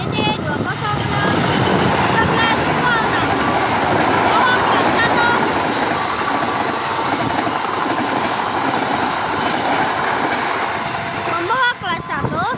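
An Indonesian CC 206 diesel locomotive hauls a passenger train past Klari station, loud and close, with a sustained engine roar, rolling wheel clatter and brief squeals toward the end.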